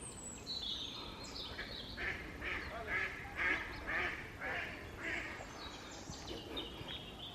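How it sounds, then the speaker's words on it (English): Ducks quack repeatedly by a small woodland lake, a cluster of calls at moderate distance over a steady outdoor background. "Let's leave it to the ducks."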